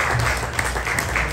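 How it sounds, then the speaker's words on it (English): Comedy club audience breaking into clapping during a stand-up set, a loud, dense burst of close applause filling the whole brief moment. "Clap it up if you do."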